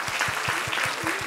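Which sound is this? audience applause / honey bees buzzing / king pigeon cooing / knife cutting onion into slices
audience applause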